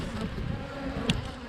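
Honeybees buzz steadily at an open hive during an early-spring inspection, a close, dense hum filling the short moment with no voices.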